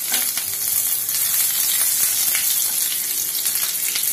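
Two small green chilies fry in about two tablespoons of hot oil in a pan, giving a loud, dense, continuous sizzle and crackle that stays close and even throughout, with no talking.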